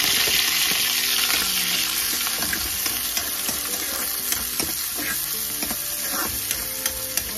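Onion sautés in a pan for an eggplant-with-egg dish, giving a continuous bright sizzle close by, broken by small clicks and scrapes of stirring throughout.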